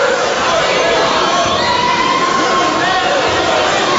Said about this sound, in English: Nice crowd on a Friday night